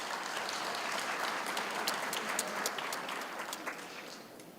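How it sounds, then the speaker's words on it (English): An audience at a university graduation ceremony claps in sustained, steady applause, a dense wash of many hands with a few sharper claps standing out, gradually easing toward the end. "if I could ask for a special round of applause for the Vice-Chancellor"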